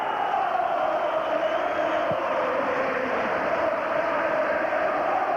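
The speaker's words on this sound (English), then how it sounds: "Crowd volume levels around Ibrox rise again" Crowd noise at Ibrox stadium during a Rangers v Celtic football match makes a steady, dense roar. It stays loud and even throughout, like a mass of distant voices, with no single voice standing out.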